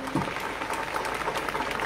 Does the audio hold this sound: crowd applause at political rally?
yes